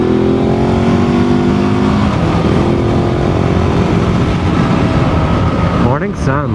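A supermoto motorcycle on knobby tires roars along a road, its engine revving loudly and steadily with rising and falling pitch and a speaking voice near the end.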